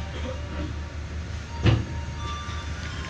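A train departing Madiun station from track 2, a steady rumbling rail noise with a brief louder clank partway through, heard continuously at moderate level with no talking.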